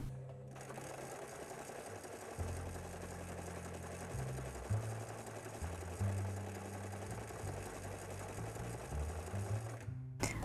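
A sewing machine runs steadily for about ten seconds, its motor speed shifting as fabric is stitched along a curve, with a close, continuous mechanical hum and no talking.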